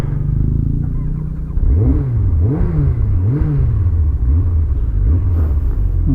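A Kawasaki ZZR 1100 motorcycle engine with hydrostatic lock trouble idles roughly, then revs up and down in several rising and falling swells, loud and close.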